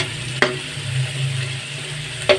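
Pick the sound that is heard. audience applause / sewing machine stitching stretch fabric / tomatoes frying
tomatoes frying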